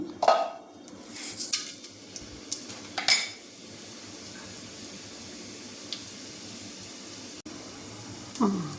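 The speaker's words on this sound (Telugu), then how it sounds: "ఆయిల్ వేడాక కొంచెం తాళింపు గింజలు వేద్దాము" Tempering seeds drop into about three spoons of hot oil for a brinjal fry, giving a soft steady sizzling hiss after some clinks of utensils and a pan.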